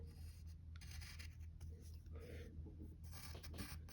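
A pencil sketches on paper in short scratchy strokes and rubs, faint and close, with brief pauses between strokes and no speech.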